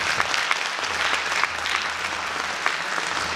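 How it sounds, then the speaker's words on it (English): Sustained applause from an audience greeting the chief guest at a Cantonment Board Barrackpore 250th anniversary ceremony, steady dense clapping at moderate distance with a faint low hum beneath. "May we have a huge round of applause for our chief guest."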